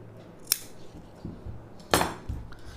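Scissors snipping through blouse fabric during tailoring, with two sharp, distinct cuts about a second and a half apart amid soft handling rustles, close and fairly quiet.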